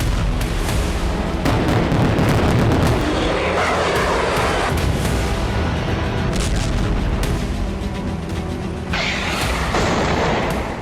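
Heavy artillery bombardment over Homs, Syria, as Assad's army and Russian forces shell rebel fighters: a continuous, loud barrage of booming blasts and rumbling detonations, dense and overlapping throughout with no voices.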